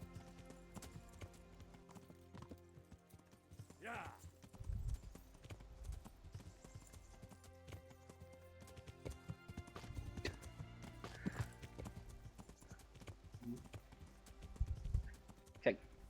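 Horse hooves clip-clop in the medieval video game Kingdom Come: Deliverance, soft irregular thuds among game ambience and a couple of whinnies, with someone talking intermittently over it.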